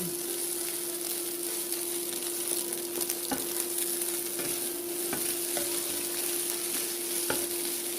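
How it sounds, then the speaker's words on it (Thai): Cold cooked rice stir-fried in a pan for crab fried rice, a continuous quiet sizzle with occasional sharp clicks of the spatula against the pan, steady and close with no talking. "เดี๋ยวแล้วเราก็จะใส่ข้าวลงไปในนะคะ ข้าวนี้เราก็ใช้ข้าวเย็นนะคะ ผัดไปนะคะจนเข้ากันดี"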